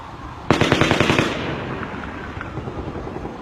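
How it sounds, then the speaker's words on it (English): A rapid burst of about eight sharp gunshots cracks out, then echoes trail and reverberate off buildings, with a few fainter distant pops afterward, in Las Vegas. "the gunshots sound close at one point and far away the next"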